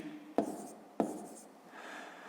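Two sharp pen or chalk strokes land about half a second apart while a math exercise is worked out by hand, each a quick scratchy tap that trails off over quiet room tone, followed by faint continued scribbling.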